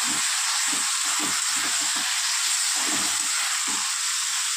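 Banana flower (mocha) soaked beforehand and then sautéed with turmeric in a pan, giving a steady, close hissing sizzle with brief stirring scrapes, no talking.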